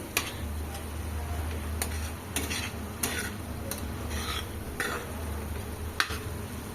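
Mint paste sautéing in oil for mint rice, a soft continuous sizzle broken by regular spoon scrapes and taps against the pan, close by.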